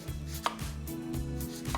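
An onion being chopped with a knife on a board in a home kitchen, with a steady run of quick, close, loud knocks and brief sharp blade hits, alone without talk.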